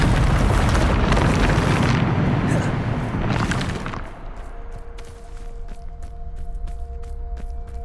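The Bombardo explosion spell goes off in Hogwarts Legacy as a loud, broad roaring blast that swells twice, then fades into a lingering low rumble with a faint sustained tone and scattered crackles.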